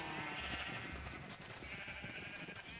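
A sheep in the Minecraft video game gives a couple of drawn-out bleats over a dense, busy game soundscape, with background noise steady throughout.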